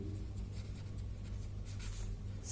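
Pen writing on a math worksheet, a steady close scratching of the tip across paper that runs for a couple of seconds, with no talk over it.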